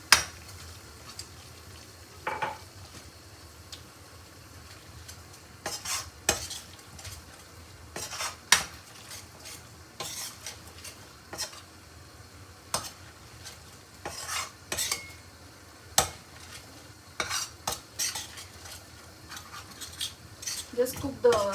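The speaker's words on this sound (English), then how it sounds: "mix this in the butter. We'll reduce the flame and just mix it." Butter and flour cooking in a pan for a white sauce, stirred with a utensil that scrapes and clinks against the pan at an irregular rhythm, close and fairly quiet over a faint low sizzle.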